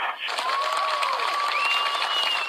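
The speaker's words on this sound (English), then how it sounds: "Jeff King, one of the Good Samaritans, receiving an applause from the residents who gathered for a news conference Sunday night." Residents gathered at a Sunday night news conference applaud a Good Samaritan, a steady dense clapping from a crowd throughout, with a voice talking over it.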